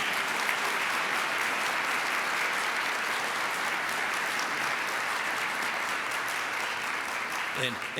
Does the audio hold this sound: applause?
yes